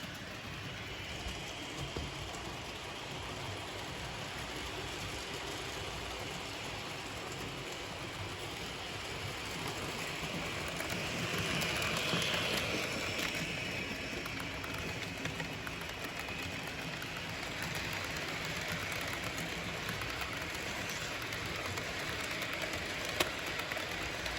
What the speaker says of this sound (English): you can hear that little bit of noise right there. So it's a DC locomotive.